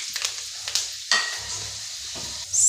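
Mustard and fenugreek seeds sizzling in hot oil while being stirred for a brinjal kuzhambu, a soft crackling fry with faint scraping, steady and close, no voices.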